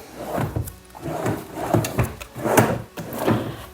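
A small wooden drawer in the armrest of a sofa slides open and shut several times up close, giving soft repeated rubbing knocks with no talk.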